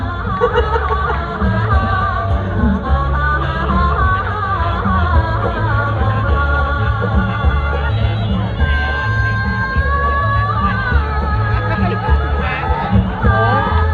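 Audience at the Miss Chiang Mai beauty pageant swimsuit round cheers and yells steadily over loud stage music, a dense crowd roar with occasional whoops rising above it.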